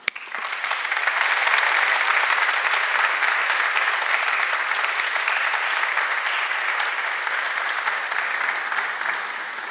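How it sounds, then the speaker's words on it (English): A graduation ceremony audience applauds the university faculty with sustained, loud applause from a large crowd that swells quickly and holds steady for about ten seconds, with no talking. "It's now your chance to applaud them."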